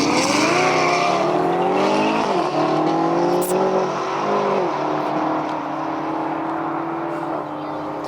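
Supercars roar off a replay race start at a 2020 supercar shootout, several engines revving hard and climbing through gears together, loud and close, with a sustained high engine drone continuing throughout.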